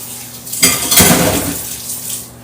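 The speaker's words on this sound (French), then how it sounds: "Je vais juste nettoyer mon poisson un peu rapidement." Fish being cleaned in a bowl while preparing Senegalese yassa: a close splash and rush of water with clinking of dishes, rising suddenly and tapering off over a couple of seconds.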